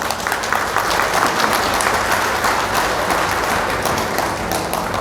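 Steady, dense applause from a seated audience at a community election-awareness meeting, many hands clapping continuously at an even level for the whole stretch, with no pause or voice rising above it.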